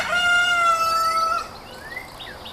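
A rooster at a home farm crows once early in the morning, loud and near. The long call holds steady, then breaks off into a falling tail with faint bird chatter behind.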